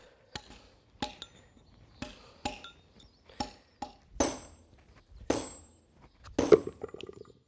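Steel chisel and pointed punch struck by hand against stone while carving a corbel, a run of about nine sharp, ringing clinks spaced irregularly, close and clear with nothing else around.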